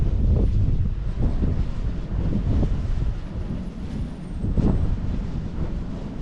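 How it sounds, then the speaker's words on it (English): Strong wind blows hard across an open hillside near large windmills, a loud continuous rumbling roar buffeting the microphone in surging gusts, with no voices. "You can hear the wind whipping around them."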